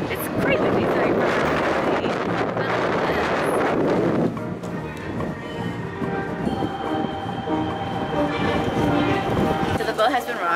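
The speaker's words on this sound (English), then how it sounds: "Up on deck right now, and it's quite windy" Strong wind buffets the microphone on the deck of a cruise ship at sea, a loud, steady roar with engine or hull rumble beneath it and a voice talking over it.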